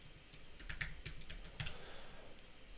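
Fast typing on a computer keyboard while entering a password, a quick run of light key clicks close by that settles toward the end, faint and without speech.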